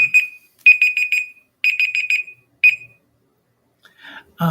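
A countdown timer alarm goes off with bursts of rapid, shrill electronic beeps in groups of four, then a single short burst, loud and close, followed by brief talk at the end.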